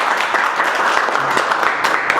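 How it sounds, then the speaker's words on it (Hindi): An audience claps loudly and steadily at an indoor mobile phone repair class, a dense wash of many hands sustained for the full couple of seconds without a break. "एक बार इनके लिए फिर से जोरदार ताली बजा दो।"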